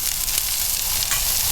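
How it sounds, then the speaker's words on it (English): Onions and peppers sizzle in healthy avocado oil on a hot Blackstone griddle, a loud, dense, steady frying hiss up close with no voices. "Hear the sizzle."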